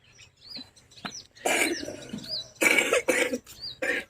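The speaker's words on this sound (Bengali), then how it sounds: "কাশি হচ্ছে" Several short coughs burst out close by, a pair and then a cluster, while small birds chirp intermittently in the quiet background.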